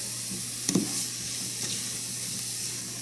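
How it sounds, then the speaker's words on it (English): Peppers and zucchini seasoned with garlic powder sizzle softly in a pan, with a steady low frying hiss and a couple of brief stirring clatters near the start. "Just going to saute that a little bit."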